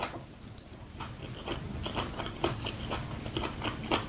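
Cooked goat's beard greens are chewed close to the mic in steady, soft, wet bites and crunches, a continuous mastication sound with no speech.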